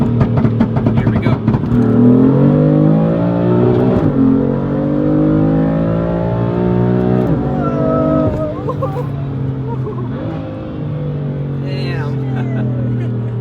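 BMW F80 M3 on an E85 flex-fuel tune accelerating hard in second gear with wheelspin, a loud close engine whose pitch climbs steadily through the revs before easing off; someone talks over it.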